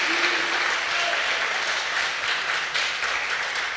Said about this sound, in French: je voudrais applaudir bien fort notre animatrice